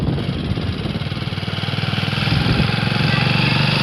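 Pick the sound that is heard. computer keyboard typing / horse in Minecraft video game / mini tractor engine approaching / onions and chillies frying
mini tractor engine approaching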